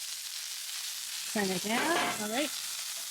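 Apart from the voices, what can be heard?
onions frying in avocado oil blend on a Traeger Flatrock griddle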